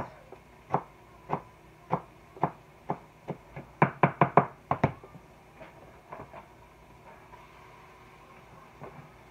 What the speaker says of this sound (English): Okay, so now slice up this.